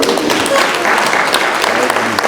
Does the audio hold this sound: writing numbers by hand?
no